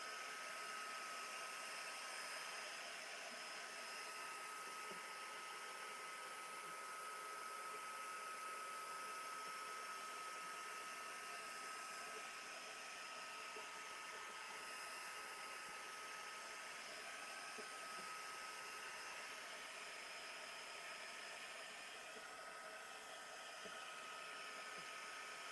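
A hair dryer blows on a mixed media artwork to dry it, giving a steady, continuous whooshing hum with a constant high whine that runs unbroken for the full length, close and uniform.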